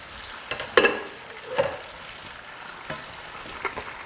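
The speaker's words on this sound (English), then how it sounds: "you can just hear the sizzle and that with what we're looking for the spaghetti" Spaghetti fries in hot oil in a cottage kitchen, giving a steady close sizzle broken by a few sharp stirring clatters from a pan.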